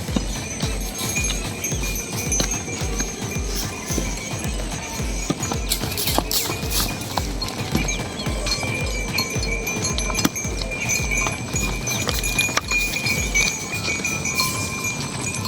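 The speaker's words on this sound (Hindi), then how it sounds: "ये हमारे इसमें भैंसें जा रही हैं।" Herd of buffaloes walking together along a road, hooves clopping in a steady, overlapping rhythm, close and continuous, with scattered knocks and light jingles over a low background rumble.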